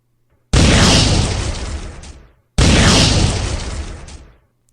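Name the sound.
cannon explosions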